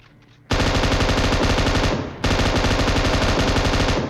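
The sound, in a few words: gunfire in a video game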